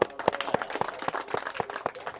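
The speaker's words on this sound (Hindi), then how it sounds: "इसके लिए ताली बजाइए" An audience at a political speech claps together in a quick, steady rhythm, close and lively, with a few scattered claps between the main beats.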